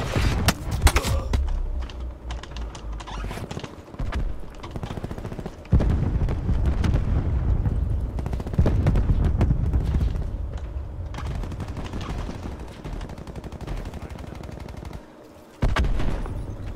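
Gunfire rings out in a Call of Duty: Black Ops 4 match: loud, close bursts of automatic fire and shots come in uneven volleys with short gaps across the stretch.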